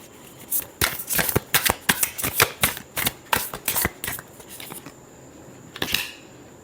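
Tarot cards riffled and shuffled by hand, a quick series of crisp flapping bursts in an uneven rhythm, close and clear, trailing off near the end with one last snap.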